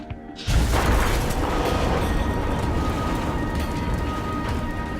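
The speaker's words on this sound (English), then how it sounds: "Very strong explosion," A very strong explosion goes off in Afghanistan with a sudden loud boom, followed by several seconds of sustained rumbling, crashing debris and noise.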